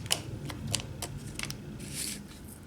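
Scissors snipping paper during a paper pumpkin card craft, a few quick close crisp cuts and rustles spread over a couple of seconds, fairly quiet with no talking.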